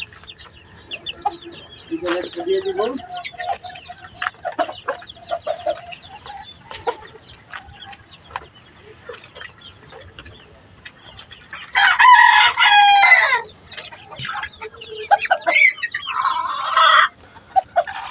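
Chickens on a poultry farm cluck and chirp in scattered bursts, then a rooster crows loudly and close about two-thirds of the way through, with more crowing and clucking after.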